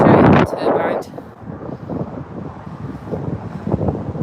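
Strong wind buffets the microphone in loud gusts at the start, then settles into a lower rushing roar with smaller gusts.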